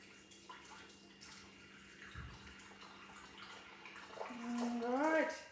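Warm water runs steadily into a Thermomix TM6 bowl for pizza dough yeast, a soft continuous splashing pour, with a voice rising briefly near the end.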